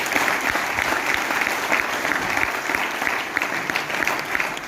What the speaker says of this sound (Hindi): तो उन चीफ गेस्टों के लिए तालियां बजा सकते हो आप लोग।